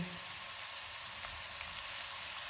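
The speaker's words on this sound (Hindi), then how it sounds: "ऑयल गर्म हो गया है, इसमें 2 प्याज डालेंगे, 5 जवे लहसुन के," Two onions and five garlic cloves dropped into two tablespoons of hot oil give a steady, close, dense sizzle that holds without a break.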